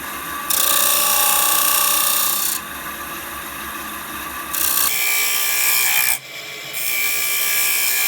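A turning tool cuts the rim of a twice-turned wooden bowl held reversed in a lathe chuck, making a continuous close scraping, rasping hiss that shifts in tone and briefly drops between cuts.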